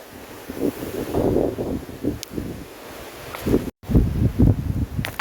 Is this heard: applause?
no